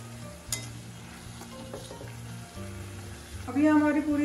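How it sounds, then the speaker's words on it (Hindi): A bedmi puri deep-fries in hot oil on high heat with a soft, continuous sizzle and a few light clinks, and the sizzle grows louder near the end. "यहाँ पूरी को हमें एकदम हाई हीट पर ही फ्राई करना है।"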